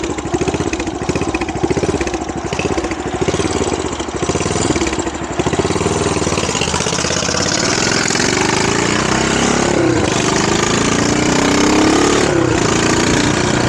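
A Yamaha SR500 motorcycle engine runs steadily and loudly throughout, a continuous mechanical drone that smooths out after the first few seconds while not fully warm.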